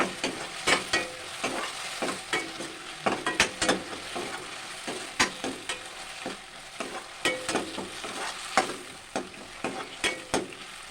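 Tamarind and curry leaves fry in hot oil for brinjal chutney, a crackling sizzle punctuated by frequent sharp stirring scrapes and taps against the pan, close and fairly irregular, with no talking.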